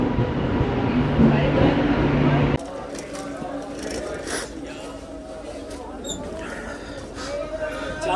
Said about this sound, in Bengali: এদিকে আমার ট্রেন ঢুকে গেছে